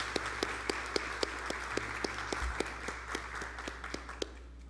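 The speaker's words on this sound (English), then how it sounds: "So I just want a round of applause for him this morning." Sparse, faint clapping from a church congregation during a Sunday service, individual claps spaced out and soft over a low steady hum.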